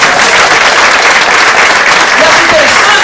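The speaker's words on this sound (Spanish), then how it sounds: "Ele tem que dar pelo menos um aplauso ao Senhor aí, não é?" A church congregation applauds during a sermon, loud, continuous clapping filling the sanctuary with voices faintly mixed underneath.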